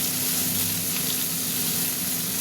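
Okra sizzles steadily in a hot pan with turmeric just stirred in, giving a soft, even frying hiss close by with no voices over it.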